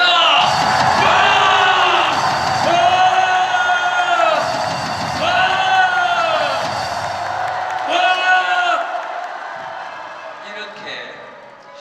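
A large crowd at a political rally lecture roars in supportive cheers and shouts, swelling in repeated waves of loud bellowing with a chanted rhythm, fading toward the end as a speaker's voice returns.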